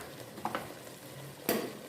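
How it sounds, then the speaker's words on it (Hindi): Goat head meat stir-frying with dry coriander, garam masala and spices gives a quiet, continuous sizzle, with a couple of soft spoon scrapes against the pan. "3 से 4 मिनट के लिए हम गोश्त को भून लेते हैं"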